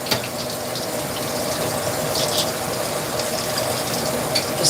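Tap water runs steadily over a small spatula being rinsed in a kitchen sink, a constant close hiss of flowing water with no talking.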